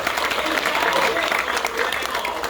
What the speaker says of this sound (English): Let me hear the crowd roar.